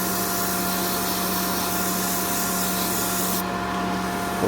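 A wooden skipping rope handle turning on a lathe is sanded with 240 grit paper, giving a steady close rushing abrasion over a low motor hum that cuts off near the end.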